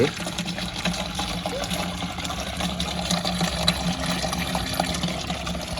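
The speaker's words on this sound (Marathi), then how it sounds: "एवढ्या स्पीडनं पाणी येतंय" Water pours steadily in a continuous rushing stream, a constant hiss with faint background voices underneath.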